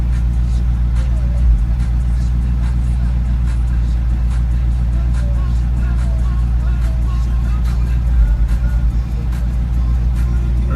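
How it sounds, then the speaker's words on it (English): A Dodge Charger exhaust rumbles loudly and steadily, a deep throbbing idle with a couple of small throttle blips. "Let's see what this Charger's exhaust sounds like."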